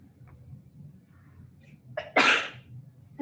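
A single loud, sharp sneeze erupts after a quiet lead-in with a faint breathy catch before it, close and sudden.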